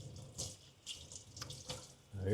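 Tap water runs into a kitchen sink while corn husks are rinsed for tamales, a steady close splashing stream that swells and dips as the husks are moved, with louder gushes near the end.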